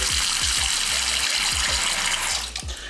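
Water runs steadily from a tap into a farmhouse-style bathroom sink fitted with a push drain, a close, loud gushing splash with rhythmic low gurgles before the flow tapers near the end.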